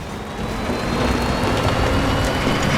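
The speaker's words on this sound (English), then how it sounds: "So it is starting to rain" Rain falling in the video game Death Stranding, a steady broadband hiss of downpour with a low rumble underneath, building slightly at the start and then holding constant with no speech.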